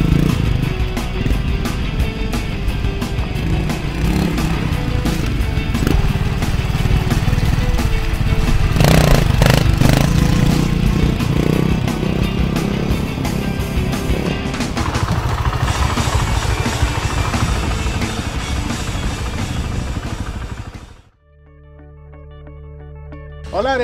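Montesa 301 RR trial motorcycle engine running steadily and loud at close range for about twenty seconds, with throttle blips, then cutting out abruptly into near silence.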